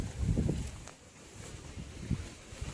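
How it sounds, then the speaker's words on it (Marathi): Strong, gusty wind blows outdoors in a cashew orchard on a sunny day, buffeting the microphone with loud low rumbling bursts that rise and fall over a couple of seconds. "हा वारा बिरा कसा सुटलाय बघा"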